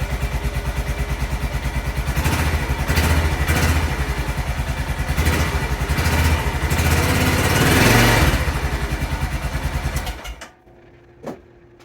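A 2003 Honda Rincon ATV engine, its carburetor freshly cleaned, runs loud and steady with a rapid even putter and a slight rise in revs before it cuts off abruptly, leaving near silence and one small clunk.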